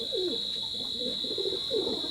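Small teddy pigeons coo in soft, repeated low calls, several overlapping bursts close by, with a steady high-pitched hum running underneath throughout.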